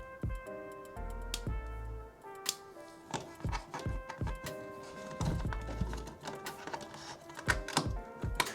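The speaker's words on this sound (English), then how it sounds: "Let's snip off these legs" Flush cutters snip the legs off electronic components while a broken Game Boy kiosk is reassembled: a close, irregular series of sharp little clicks and snaps over a quiet workbench, with no talking.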